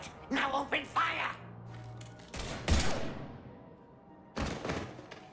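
Gunfire in the video game Mass Effect Legendary Edition: sharp bursts of shots and heavy thuds break out after brief dialogue. The game's voices are heard around the shooting.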